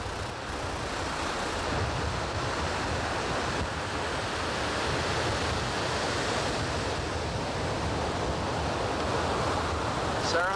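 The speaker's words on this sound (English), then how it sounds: "Sarah, you're surfing!" Ocean surf washes steadily onto a beach, a continuous broad rushing roar with some wind buffeting the microphone, fairly distant and even in level.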